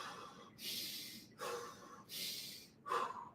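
A person breathing through the chest, three or four quiet, effortful inhale-exhale cycles with audible airy rasp, spaced about a second apart, alone without talking.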